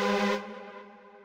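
A chord sounds from the InstaDance chord plugin for Logic Pro X on its bright setting, a single sustained synth chord with a bright attack that decays over about a second, heard alone with no talk.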